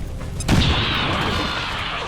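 A frag grenade bursts in XCOM 2 with one loud, close blast that rolls into a long rumbling, hissing decay, with no voices.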